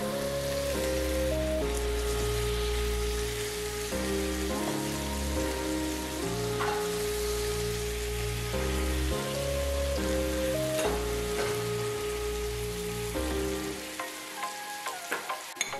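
Fish fries in butter in a pan, giving a steady, close sizzle and crackle that runs for the whole stretch beneath continuous music before tapering off near the end.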